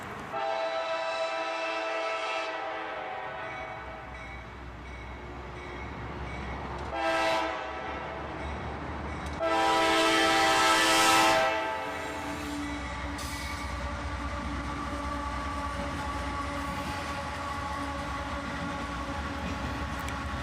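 A freight train with a single CM44 AC rebuild leading an auto-rack consist passes beneath a downtown expressway in Dayton, Ohio, its steady rumble continuous throughout, with horn blasts sounding loudly around the middle and once more briefly later.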